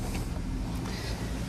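Road traffic passing nearby, a steady low rumble of car engines and tyre noise filling a brief stretch, faint and continuous without distinct individual passes.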